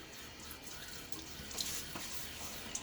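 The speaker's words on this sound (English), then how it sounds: "Water again on my face." Faint running water at a bathroom sink during a wet shave, a soft steady trickle with a few light splashes and drips, close and quiet, no talk.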